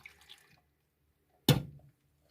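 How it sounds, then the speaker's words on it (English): Orange juice pours in one short splashing burst into a pot of cranberries, loud and close, with quiet kitchen sounds before it and nothing after. "I like orange juice, so I'm going to add 2 cups of orange juice"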